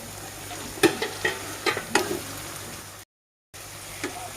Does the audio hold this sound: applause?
no